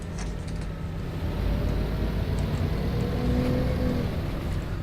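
Bus engine heard through an open window, a steady low diesel drone with wind rush that swells slightly partway through, constant and fairly near with no talking.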